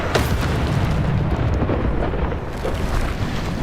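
Bombarda blast spells from the Hogwarts Legacy video game, a loud, continuous rumbling barrage of booming explosions that fills the whole stretch without pause.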